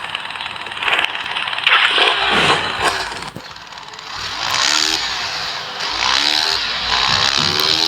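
A motorcycle engine in a video game starts and revs in rough, buzzing bursts that rise and fall, loud and close, with no talking over it.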